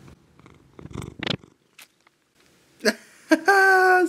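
A cat purrs in soft, intermittent bursts close by, followed near the end by louder, drawn-out tonal cat sounds.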